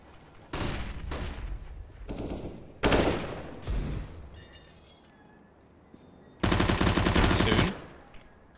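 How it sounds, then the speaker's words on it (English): AK-47 gunfire in a Counter-Strike match rings out in several loud automatic bursts, short sprays at first and then a longer sustained burst, sharp and close with brief pauses between. "That is an AK-47 as well."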